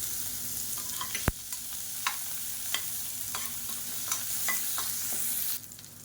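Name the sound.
chopped onions, red chilies and curry leaves frying in oil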